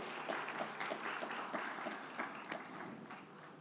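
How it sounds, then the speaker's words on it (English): A crowd at an awards ceremony applauds the jury, with soft scattered clapping and a few sharper claps, faint and fairly distant. "A round of applause,"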